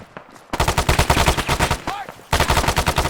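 Rapid automatic gunfire in the military shooter Arma 3, loud bursts of evenly spaced shots that break off briefly and then resume at the same rapid rate, with a faint voice beneath.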